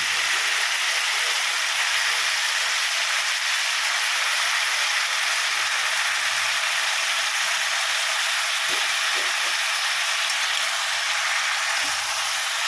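Slices of raw banana fry with golden-brown onion in a pan, making a loud, constant hiss and sizzle that holds steady throughout. A few faint low knocks come through beneath it, with no talking.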